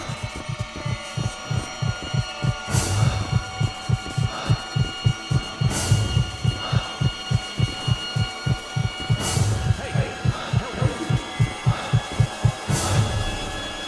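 Throbbing heartbeat from the horror video game Echo Night Beyond, a steady low double pulse repeating about twice per second throughout, loud and close over a humming, droning ambient background.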